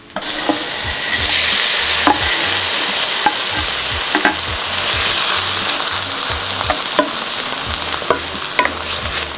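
Tomatoes hit a pan of frying onion, producing a loud, continuous close sizzle with repeated stirring scrapes and a low rhythmic thumping underneath.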